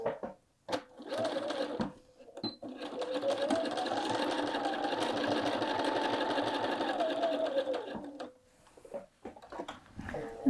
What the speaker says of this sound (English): I'm going to sew on the front and just trace this seam line here with my stitching